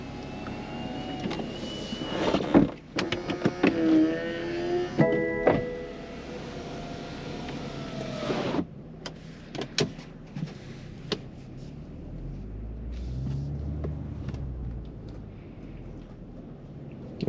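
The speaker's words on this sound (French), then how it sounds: "Nous allons fermer la capote pour partir en essai routier." A BMW Z4 M40i roadster's electric soft top closing, with a sequence of motor whirs, mechanical clicks and solid thunks over several seconds, followed by quieter low rumble and faint background noise.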